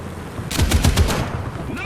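Rapid burst of automatic gunfire in the War Thunder tank battle game, a loud close volley lasting under a second followed by lingering rumble and softer background battle noise.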